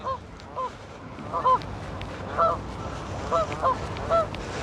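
Geese honking near an old canal-side wall in Runcorn, several loud paired honks spaced through the stretch over a low outdoor hiss, with no talk.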